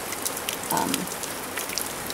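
Heavy rain pours onto a house roof in an earthquake-damaged city, a steady dense hiss of drops with scattered louder taps, unbroken for the whole stretch and no voices.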